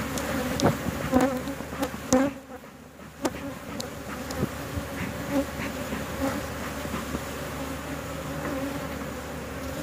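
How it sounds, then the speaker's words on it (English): Honey bees buzzing around an opened backyard hive during a checkup, a continuous close drone with individual bees zipping past the microphone in short louder swells. "Good number of bees for both boxes so far."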